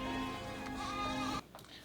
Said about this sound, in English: Free roam goats.